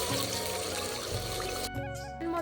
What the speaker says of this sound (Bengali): এই সময় আমি দিয়ে দেব জল পরিমাণ